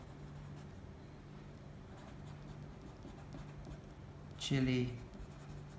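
A pen writes a label on a color sample sheet, making faint scratching strokes under steady room hum, and a voice briefly speaks near the end.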